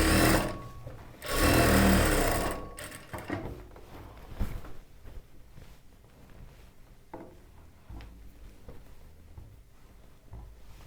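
A sewing machine stitches the lining of a chudidar top, opening with a loud close burst of running motor, then quieter intermittent stitching and handling clicks with no voices.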